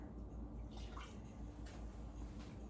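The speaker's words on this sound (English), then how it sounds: "we're going to go ahead and pour our milk directly into the butter" Milk pours steadily into a pan of melted butter while mixing a hot milk cake batter, a continuous close liquid splash and trickle lasting the whole stretch.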